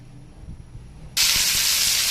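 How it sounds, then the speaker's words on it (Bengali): Bitter gourd and potato pieces with panch phoron drop into hot oil, a sudden loud sizzling hiss bursting in after a quieter moment and holding steady. "তেলে একটু পাঁচফোড়ন দিয়ে করলাটাকে ভাজি বসিয়ে দিয়েছি"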